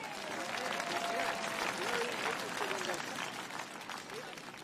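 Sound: audience applause

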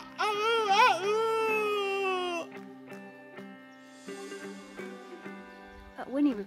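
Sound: person imitating a cockerel crowing

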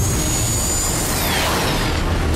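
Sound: jet jump effect

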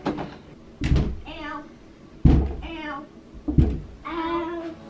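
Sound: door being closed

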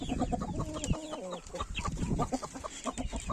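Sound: rooster clucking

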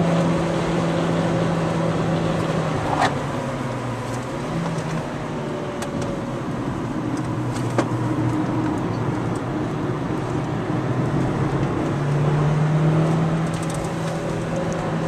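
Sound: car driving a lap at Hungaroring circuit, braking and shifting

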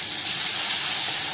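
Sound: dried red chilies and curry leaves frying in oil

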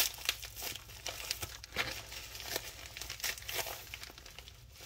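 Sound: Pokémon card package being opened, wrapper crinkling

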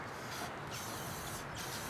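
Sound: spraying Krylon spray paint on a tree stand

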